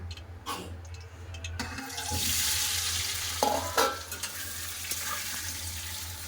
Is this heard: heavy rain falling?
no